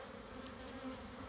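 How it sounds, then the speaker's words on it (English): Honey bees from an abandoned hive buzzing in a continuous, agitated drone, a busy swarm close around with individual bees passing near. "We've got cranky bees"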